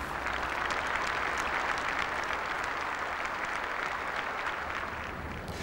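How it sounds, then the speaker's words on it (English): A stadium crowd at Stoke City's Britannia Stadium applauds as a hearse is driven in, producing a steady, sustained roll of clapping from the stands at moderate distance. "the crowd broke into applause."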